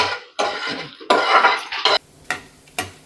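Dried red chillies hit hot oil in a pan for Andhra-style gongura pachadi, giving a few sharp bursts of crackling and sizzling separated by brief quieter gaps, close and fairly loud.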